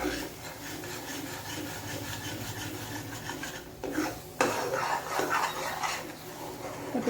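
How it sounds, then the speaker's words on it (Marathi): Ground masala paste being stirred in oil in a kadai, a steady scraping and rubbing of the spoon against the pan, quiet and continuous with a couple of sharper knocks. "तर कढईमध्ये आपण वाटण जे टाकलं आहे ते आपण हलवून घेणार आहोत."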